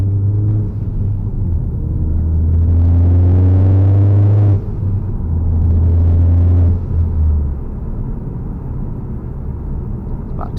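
Ford Focus ST MK3 with a Revo Stage 2 tune accelerating in fifth gear from about 50, a steady loud engine drone and road rumble building to a stronger, rising tone midway, then easing slightly.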